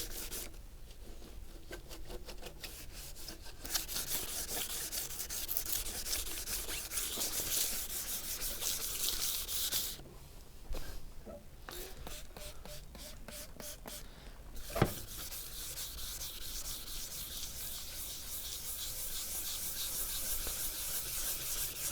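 A cloudy Audi A4 headlight lens is rubbed by hand, producing quiet, continuous scrubbing strokes with a brief pause and a small tap partway through.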